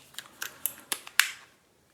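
Nikon Coolpix L25 compact camera's battery compartment cover being pressed shut, a quick run of about six small plastic clicks and snaps of rising sharpness, close and quiet, the last click loudest.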